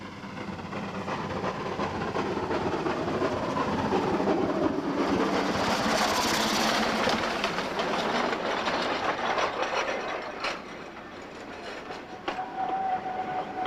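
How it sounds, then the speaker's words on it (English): A steam-powered logging train on the Yosemite Mountain Sugar Pine Railroad in California's Sierra Nevada rolls steadily with continuous rail rumble and clatter, swelling slightly mid-pass and easing toward the end, with no voices. "take a ride back in time to the days of steam-powered logging trains"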